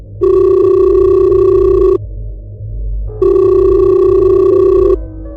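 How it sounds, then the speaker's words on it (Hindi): A mobile phone kept in a pocket rings loudly: two long, steady electronic ring bursts separated by a short pause, close and clear with no talking. "कि पॉकेट में रखा उसका फोन बज उठा।"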